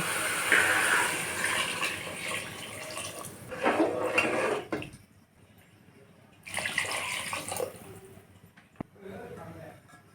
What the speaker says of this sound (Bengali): কষানো হয়ে গেছে এবার আমি জল দিয়ে দেব